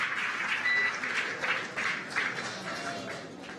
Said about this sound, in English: Incredible view as the crowd goes wild for Crew 4